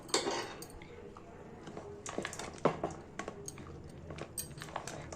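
Cooked rice being stirred with tamarind paste in a pan for temple-style puliyodharai, with soft wet squishing and scraping and occasional clinks of a spoon against metal, close and steady at moderate volume.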